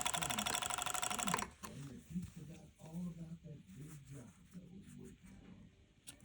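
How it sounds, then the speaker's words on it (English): Sewing machine stitching a fabric seam on a child's bunny-bottom garment with a gusset, a steady loud mechanical whir for about a second and a half before it stops, then someone talks. "So I'm always going to sew with my front side up"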